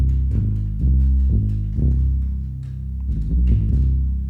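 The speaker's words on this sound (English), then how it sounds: "we start with a bass sound that sounds something like this." A synthesized bass line, built on a DRC synthesizer, plays a series of deep, heavy notes with sharp attacks in a steady rhythm, loud and alone.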